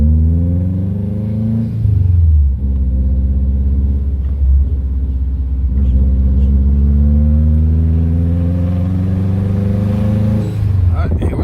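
A car engine climbs through the gears on a road trip, rising in pitch and dropping at each shift, loud and close from inside the cabin, with people talking over it.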